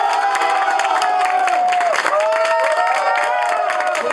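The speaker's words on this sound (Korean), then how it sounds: "박수!" Marines cheer and clap for a comrade selected for a Cheongryong warrior competition; loud, close crowd cheering with whoops and shouted voices rides over steady applause throughout.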